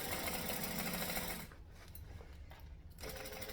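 A sewing machine stitching a garment seam with lining runs steadily and loudly with a dense mechanical whir, pauses for about a second and a half, then starts up again.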